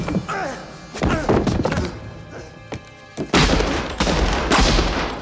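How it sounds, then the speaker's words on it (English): Gunfire in a tense scene from the 1990 film Ghost rings out as a few loud, sharp bangs with booming tails, mixed with shouting and commotion. "He's about to shoot Whoopi Goldberg."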